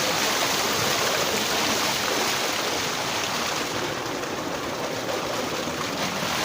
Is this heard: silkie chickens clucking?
no